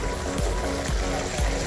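Hot spring water at 143 degrees Fahrenheit trickles and gurgles steadily along an outdoor promenade trail, a close, continuous watery wash with faint low thumps recurring about every half second.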